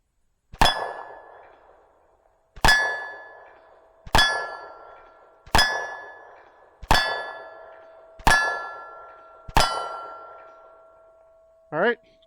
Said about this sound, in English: I know the other 6 hit because I heard the ringing definitely